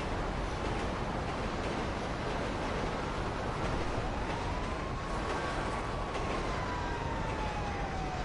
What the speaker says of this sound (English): how many fucking trains come past here?